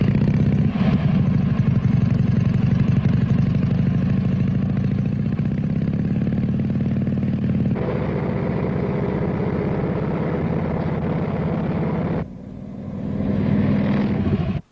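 Motorcycle engine running steadily at close range during a test ride, a loud continuous drone that shifts slightly in tone partway through and dips briefly near the end.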